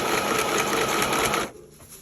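A sewing machine stitches fabric in a rapid, steady whir for about a second and a half, then stops abruptly, close and fairly loud.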